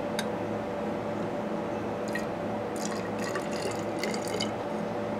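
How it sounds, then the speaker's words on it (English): Acetone poured into a glass test tube, a light splashing trickle with scattered drip-like bursts over a steady hum, close and moderately quiet with no talking. "I'm going to pour this into our test tube here."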